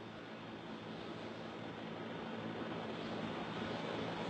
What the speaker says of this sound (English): And here it comes in now, this JetBlue flight 292 with that front nose gear pointed sideways.